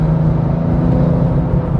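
A tuned BMW S58 G8X pulls hard on a highway, its steady engine drone and whirring road rumble sustained and loud throughout, with no voices.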